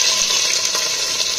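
Chopped onions hit hot oil in a pressure cooker for a desi chicken curry, giving a loud, steady sizzle and frying hiss with faint stirring and no talk.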